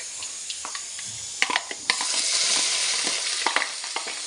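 Chopped onion, ginger and garlic fry in hot oil in a pan, a bright steady sizzle broken by several sharp scrapes and clatters of stirring, close and fairly loud, no talking.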